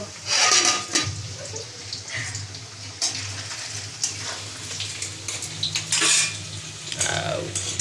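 Paneer frying in a pan as metal utensils clink and scrape against it, with irregular clattering knocks and a soft sizzle beneath, close and moderately loud, with occasional voices in the background.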